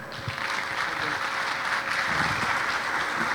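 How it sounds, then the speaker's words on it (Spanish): A conference audience applauds after a speaker's presentation, a steady, dense wash of clapping that holds evenly for several seconds without pause. "Fuerte los aplausos, por favor, para el doctor CPC Luis Serrano Díaz por su exposición"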